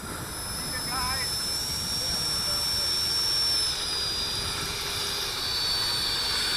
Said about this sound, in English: Rebel EDF 70mm on 5S. Beautiful plane.